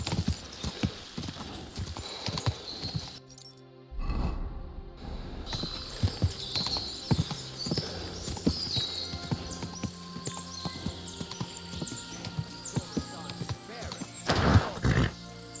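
Rapid clip-clop of horse hooves galloping in Kingdom Come: Deliverance II, with clanking, rustling and an occasional whinny from a busy game world, steady and fairly close.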